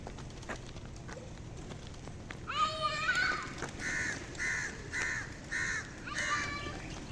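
Several birds calling repeatedly in a rhythmic series of harsh, cawing notes over steady outdoor background noise.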